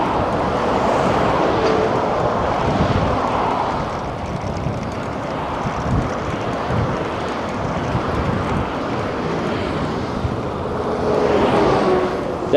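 A headwind roars across the microphone while cyclists ride out from Rotterdam, a steady, loud buffeting rush with gusty swells and no clear talk.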